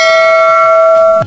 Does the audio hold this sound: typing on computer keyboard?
no